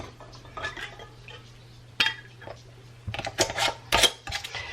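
Lids are screwed onto canning jars with sharp metallic clinks, scrapes and rattles in irregular bursts, busier toward the end, over a low steady background hum.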